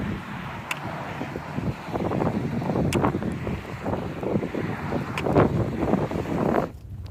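Wind gusts on an open hiking trail on the American Discovery Trail buffet the microphone in loud, rumbling surges, cutting off abruptly at the end.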